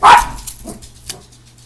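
Dogs give a short burst of barking up front, loud and close, then a fainter yelp or two trail off in a quiet room.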